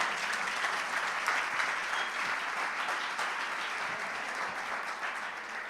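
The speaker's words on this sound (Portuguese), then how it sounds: "Aplaude mais forte aí, gente." A church congregation applauds during a worship service, with dense, steady clapping that fills the whole stretch at an even loudness and no voices over it.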